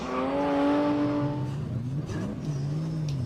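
A 530-horsepower drift car, driven by Géraud Bourgoin in a Pure Drift run, revs loud and close with a steady engine drone that shifts pitch and wavers as the car slides, with no talk over it.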